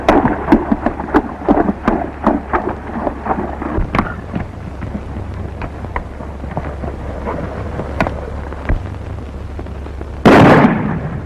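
A thunderstorm with rain hisses steadily beneath repeated sharp cracks and rumbles of thunder, ending in a loud close burst.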